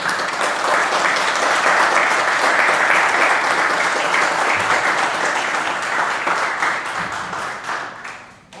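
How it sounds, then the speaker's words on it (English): Sustained, even applause from the room at a city council meeting honouring veterans, a steady wash of many hands clapping for about eight seconds before tapering off. "We have a round of applause for veterans,"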